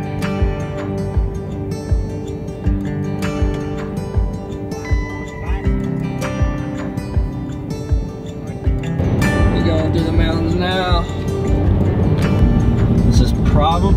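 Truck engine droning steadily on a long mountain drive, with road rumble and shifting engine pitch, beneath frequent nearby talk and music-like tones.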